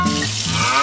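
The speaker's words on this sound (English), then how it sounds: "Turn on the shower." Water from a toy Barbie Dreamhouse shower gushes on in a brief, steady burst, close and fairly loud, with faint electronic tones mixed in.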